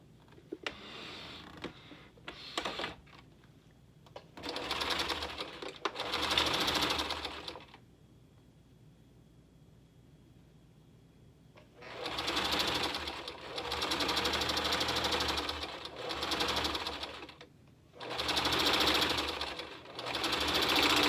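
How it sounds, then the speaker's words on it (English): A sewing machine stitching two sides of folded fabric runs in several bursts of rapid mechanical whirring, separated by pauses with faint handling noises, close and fairly loud with no speech. "So I took it, folded it, and now I just sew two sides"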